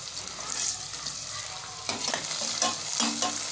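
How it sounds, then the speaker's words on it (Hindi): Onions fry in half a cup of oil, giving a steady, close sizzle with a few stirring scrapes toward the end and no voice. "हाफ़ कप तेल लेके इसमें प्याज ऐड कर दिए। प्याज को हम करेंगे ब्राउन।"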